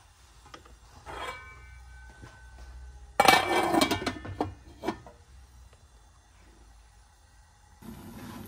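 Metal lid set onto a cooking pot of paksiw na galunggong with ampalaya and eggplant: a sharp clanking clatter in the middle, with softer clinks and rubbing before and after in a quiet kitchen.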